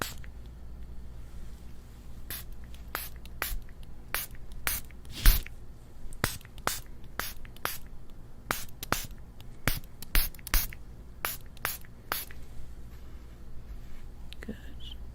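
Short sharp spritzes from a spray bottle applied to skin in a close, quiet medical skin assessment roleplay, about twenty bursts at irregular intervals over a faint steady background hiss.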